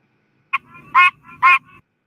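A pine barrens tree frog calls with nasal, goose-like honks: a short note followed by two stronger honks, evenly spaced and close, standing alone against silence.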